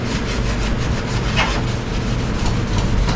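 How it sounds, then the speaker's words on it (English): Close, continuous abrasive rasping strokes as the underside of a first-generation Toyota 4Runner's hood is scuffed in preparation for seam sealer and bodywork, a dry, scratchy rubbing with no talk. "And I can get all this underside of this hood scuffed everywhere where I'm not going to do heavy repairs."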